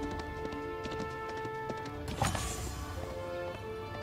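Horse hooves clip-clop in a steady rhythm in Age of Empires IV, moderately close, with a brief crash partway through and faint game ambience behind.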